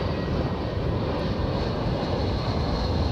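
A Lufthansa Airbus A321ceo in 1950s-era livery gives off a steady, broadband engine rumble, continuous and moderately loud across the short stretch with no voices.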